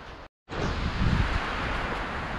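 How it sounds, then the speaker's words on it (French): Wind blows steadily outdoors in an Ardèche forest, a broad, loud rushing noise that cuts out for a moment and then returns stronger and holds on to the end. "Le vent souffle de plus en plus."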